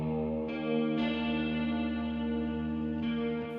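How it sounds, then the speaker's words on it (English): Distorted electric guitar chords ring out with heavy effects, a few strums letting notes sustain and blur with reverb and shimmering modulation. "Some broken electric guitar chords"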